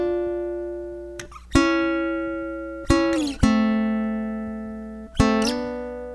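Baritone ukulele playing an instrumental break, three strummed chords each ringing out and decaying, with quick fretted slides between them, played solo and close.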